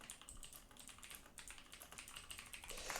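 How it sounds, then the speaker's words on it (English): Rapid typing on a computer keyboard during a competitive Rainbow Six-style esports broadcast, a dense run of quick clicky keystrokes that stays steady and close throughout with no talk. "I was typing to the players"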